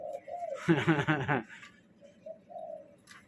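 Pet bird, likely a dove or pigeon, giving soft low coos near the microphone, interrupted by a short burst of close human laughter in the middle.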